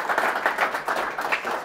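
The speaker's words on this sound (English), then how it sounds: "Ladies and gentlemen, a round of applause for Pradeepa Timmermans." Steady applause from a comedy show audience greeting comedian Pradeepa Timmermans, a dense continuous wash of many hands clapping together, filling the room for the whole moment.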